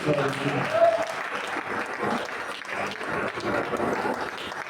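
A church congregation applauds during a worship service, sustained clapping from a crowd that fills the room while a voice speaks over it.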